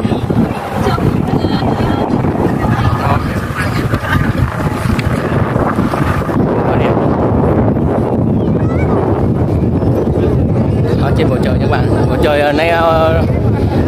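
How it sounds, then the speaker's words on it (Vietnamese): Strong gusting wind buffets the microphone at a kite-flying field in District 12 as rain approaches, a loud continuous rumble throughout with a person talking over it. "Chiều nay rất gió, rất là lớn mà không biết có mưa nổi không"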